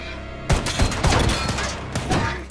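Rapid bursts of gunfire from a Korean spy film shootout, loud sharp shots cracking in quick succession after a brief quiet start, with several clustered volleys.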